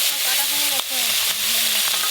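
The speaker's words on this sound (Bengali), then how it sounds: "কাকিমা, আমার মাছ ভাজা হয়ে এলো" Fish shallow-frying in a pan at home, a steady close hiss of oil covering the whole stretch, with a faint voice talking over it in places.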